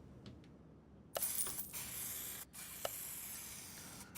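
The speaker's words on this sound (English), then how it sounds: "Spray it the factory colour. Paint booth." A car is spray-painted in a paint booth in Car Mechanic Simulator 2021: after a quiet second, a steady airy hiss of spray starts, broken by a couple of short gaps and faint clicks.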